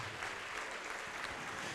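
A church congregation applauds in a faint, steady wash of clapping, distant and continuous with no clear individual claps standing out.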